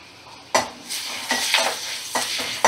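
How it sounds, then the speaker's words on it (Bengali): Thin strips of potato fry in a pan as a utensil stirs them in repeated scraping strokes over a steady crackling sizzle, close and fairly loud. "আলুটা একটু লাল লাল করে ভেজে নেব"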